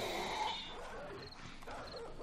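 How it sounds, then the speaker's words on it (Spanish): Dogs in the survival video game 7 Days to Die give faint, distant whimpers and yips over low background noise, with no talk. "Hay putos perros aquí, tío."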